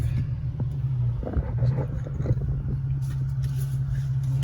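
An Infiniti G37 engine rumbles while driving, a steady low drone heard from inside the car with brief clattery bumps along the way and no talking.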